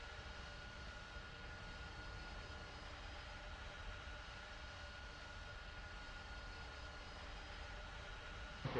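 An airplane at London Heathrow airport gives a steady, fairly faint broadband jet roar that holds evenly from start to finish, with no voices over it.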